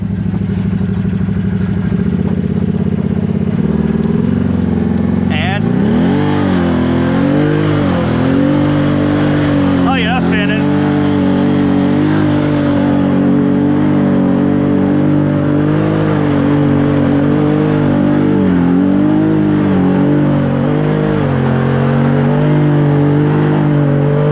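A Maverick Turbo off-road vehicle churning through mud, its engine droning loudly and steadily with repeated rising and falling revs and occasional clatter, recorded up close from on board.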